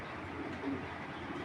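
A cobra breed pigeon, kept among tournament pigeons, gives a soft low coo midway through a brief moment, close by, over faint background noise.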